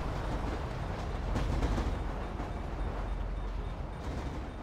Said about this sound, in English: Of course, there would be a train.